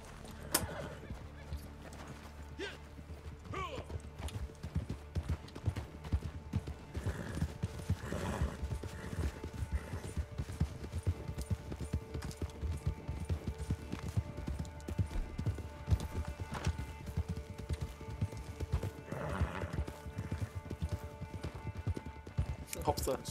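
Horse in Red Dead Redemption 2 clip-clops along in a steady, brisk rhythm of hoofbeats, with a neigh breaking through partway in, under continuous game ambience.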